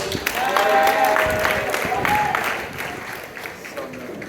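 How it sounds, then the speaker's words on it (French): A church congregation applauds the choir after morning worship singing; broad clapping swells early, then gradually thins and softens, with a few voices and murmurs blending in near the end. "On applaudit la chorale ce matin pour la louange."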